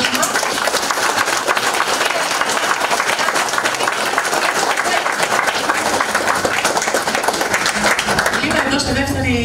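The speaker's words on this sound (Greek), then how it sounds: "Αξίζει το θερμό μας χειροκρότημα." Warm applause from the audience at a Red Cross branch event on Santorini, honouring an award recipient: steady, loud, sustained clapping from a crowd filling the room, with some faint voices near the end.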